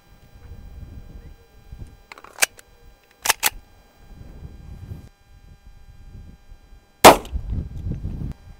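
Gunfire from a 10mm pistol loaded with Federal Swift A-frame 200 grain rounds: a few sharp, loud broadband cracks, one near two seconds in, a quick pair a second later and a strong final shot near seven seconds, over low outdoor rumble.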